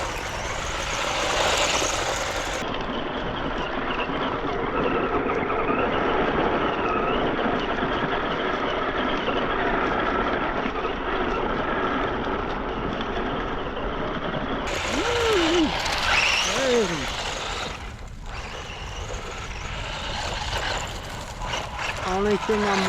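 A Tamiya Bigwig RC car drives through sand, its electric motor and tyres making a steady, close rushing drone with scattered spinning and scraping noises and a few brief high squeaks near the end.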